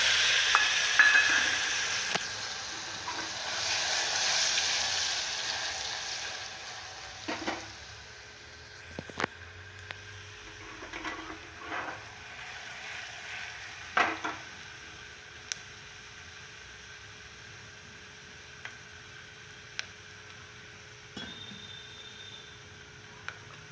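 Peanuts and a chopped potato fry in a pan with asafoetida. A loud sizzle starts strongly, then fades to a quieter hiss broken by sharp scattered ticks and stirring knocks.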